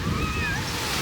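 Wind gusts buffet the microphone on a warm Castaway Cay beach, a steady broadband rush mixed with surf, with a faint voice briefly rising above it.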